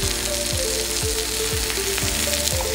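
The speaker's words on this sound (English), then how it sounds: "gonna saute this until the edges start to get brown" Tuna fillet sautéing in a pan, a steady loud sizzle with a few soft clinks of a utensil, no talking.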